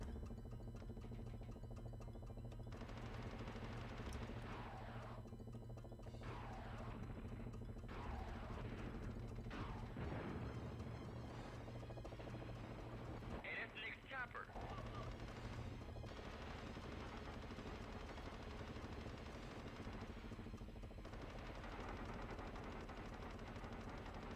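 Bursts of rapid gunfire from a Strike shooter game on the PlayStation, played while strafing, crackle repeatedly across the stretch over a constant low drone of engine and game noise, fairly faint overall.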